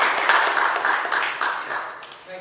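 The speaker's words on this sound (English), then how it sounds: "Give them a big round of applause." Steady applause from a room of Rotary Club members in Lexington welcoming a volunteer to the front, dense clapping holding at an even level for a couple of seconds.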